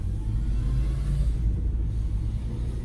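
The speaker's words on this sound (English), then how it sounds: "So we'll just drive in." A car drives toward a nearby town, its engine a steady low rumble with road noise, close and continuous throughout with no talk.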